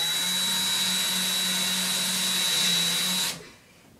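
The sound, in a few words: power screwdriver driving screws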